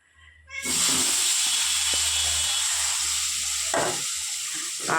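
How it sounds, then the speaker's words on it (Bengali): Potato and eggplant pieces drop into hot oil, setting off a loud, sudden sizzle that stays steady and close for several seconds, with faint clinks of stirring. "এবার মা আলু বেগুন একসঙ্গে ছেড়ে দেবা"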